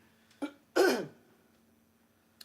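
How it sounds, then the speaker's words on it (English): A man at a blues performance clears his throat in two short raspy bursts, the second longer and stronger, heard close and alone against a faint steady hum. "I had to stop and clear my throat."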